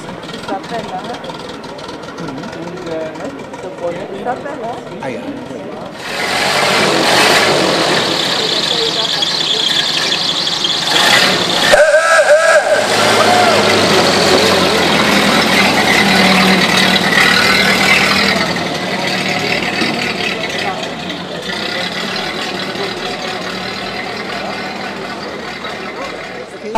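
A 1949 IZh motorcycle engine running at a vintage vehicle meet in Harthausen, a steady mechanical drone that rises in loudness partway through with a brief sharp squeal, outdoor crowd noise around it and faint voices.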